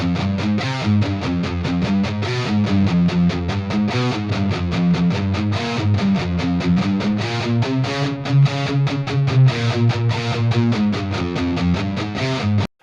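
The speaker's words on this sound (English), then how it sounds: "I want to start with the 1x12" Heavily distorted electric guitar played through a 1x12 cabinet impulse response, with dense chugging riffs and sustained chords that stay loud and steady for the whole passage before stopping abruptly at the end.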